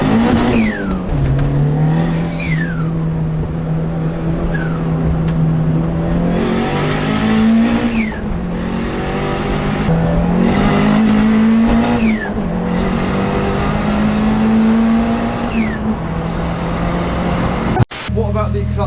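Toyota Starlet EP82 GT engine idling then revved again and again, each blip rising sharply and falling back, loud and close over about nineteen seconds with a few voices talking at times.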